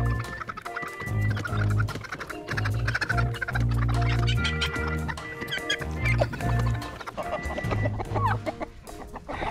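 Farm chickens clucking in a busy flock, overlapping calls and short clucks repeating continuously at close range, fairly loud with no talking.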